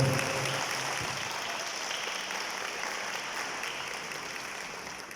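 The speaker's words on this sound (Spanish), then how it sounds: "Le damos otro aplauso, por favor." An audience at a diocesan teachers' gathering gives a round of applause. The clapping is dense and continuous, starting strong and slowly tapering off over about five seconds.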